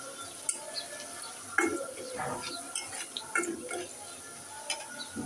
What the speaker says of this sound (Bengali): আমার পেঁয়াজটা ভাজা হয়ে আসছে